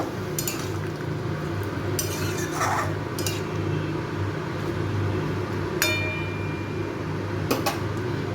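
A spoon stirs mixed vegetables with a little water in a pan, with scattered clinks and scrapes of metal against the pan over a low, steady background hum.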